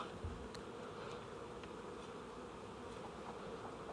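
Honeybees hum at a hive in a continuous, faint buzz, with many insects droning together at a steady level. No one speaks, and a few brief clicks sit under the hum.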